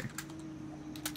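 Quick keystrokes on a computer keyboard, a few light clicks in a short burst, soft and close over a quiet room hum.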